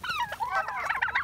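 Wild chickens squabble close by, a pair plus a brown hen raising loud, harsh honking squawks and clucks in rapid overlapping bursts, with no other sounds around them.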